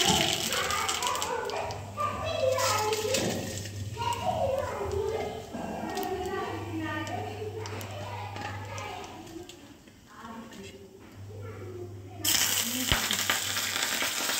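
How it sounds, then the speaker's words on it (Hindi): Steady frying sizzle from cumin seeds dropped into hot oil for a dal tempering, with a dog barking and children's voices in the background. "तेल गरम हो गया है, अब इसमें डालेंगे जीरा।"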